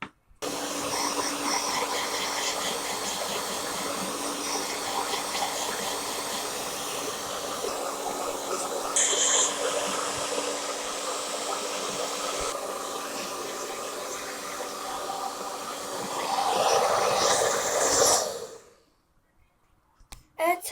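A hair dryer set to low heat and low speed blows steadily and loudly for about eighteen seconds as hair is dried, with a brief surge near the end before it cuts off into silence.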